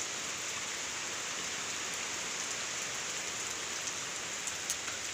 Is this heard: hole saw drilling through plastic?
no